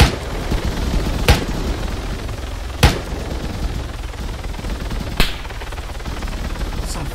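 Gunfire in Arma 3 during a squad training session, with tracers streaking in: several sharp, loud cracks spaced a couple of seconds apart stand out over a steady rumble of background noise.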